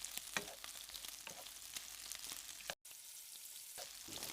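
Raw peanuts crackle and sizzle in hot oil in a pan while being stirred, a close, steady frying hiss with sharp spits and a brief gap of silence near the middle.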